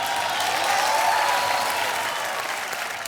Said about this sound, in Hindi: तालियां आपके लिए मैडम।